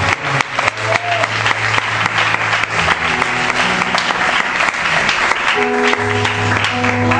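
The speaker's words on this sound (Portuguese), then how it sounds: "Aplauda Jesus Cristo." A church crowd applauds warmly at a gospel rap event in Barueri, São Paulo, dense sustained clapping with scattered cheers over a lingering sustained keyboard tone.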